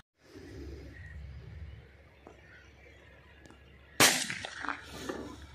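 A shotgun fires once during an outdoor dove hunt. The blast is a sudden sharp crack after several seconds of quiet ambience, followed by a brief ringing tail.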